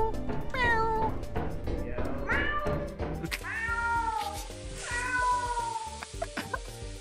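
A person imitates a cat over game voice chat in Lethal Company, letting out several drawn-out, rising and falling meows one after another over background game music and clatter.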